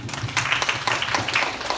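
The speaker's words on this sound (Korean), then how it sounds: "박수 쳐주세요." A church youth-service audience gives brief applause, a short burst of scattered clapping at moderate volume.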